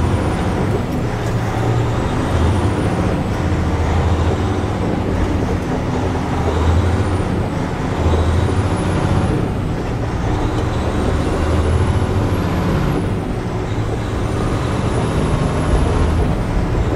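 Heard from inside the cab of a big truck, a loud steady engine drone runs throughout. Repeated rising and falling hissing whines from the air brakes and drivetrain pass over it, with no talk.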